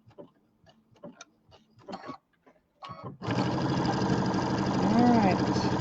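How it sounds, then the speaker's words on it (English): A sewing machine stitches along the side of a rectangle bench quilt, its fast steady whirring running continuously after a few light handling taps and clicks. "We're going to sew this side on."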